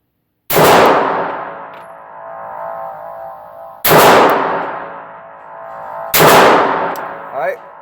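Three loud gunshots from a handgun on a range, each a sharp close blast with a long ringing decay, spaced about three seconds apart, with faint metallic pings between.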